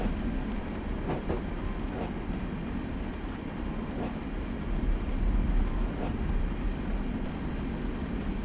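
A train in Train Simulator 2015 coasts on the Sheerness to Sittingbourne line toward Queenborough station, giving a steady low rolling rumble with faint periodic rail clicks throughout.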